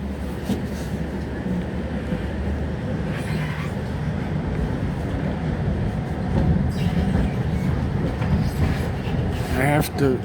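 Steady rumble of a moving train carriage with rhythmic rattling of the cars, a few brief squeaks near the end, and faint voices in the background.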